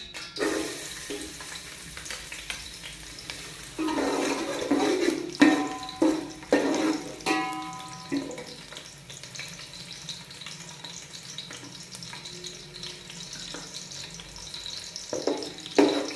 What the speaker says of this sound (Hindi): ऑयल जब गर्म हो जाएगा तो इसमें हम डालेंगे कटे हुए प्याज।